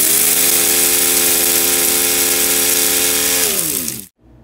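An electric coffee grinder whirs loudly and steadily as it pulverizes instant oatmeal packets, a close continuous motor drone lasting about four seconds, winding down slightly before cutting off abruptly.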